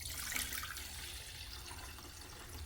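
Water from a tap runs steadily into a cooking pot being filled to about an inch deep for rice, a continuous broadband hiss and splash at close range with no talking.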